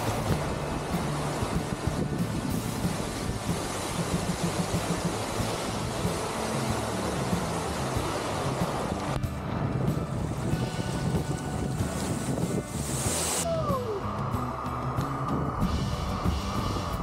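A hidden waterfall near Nashik amid green surroundings gives a continuous, broad roar of rushing water, loud and close, with some wind buffeting the microphone and no voices.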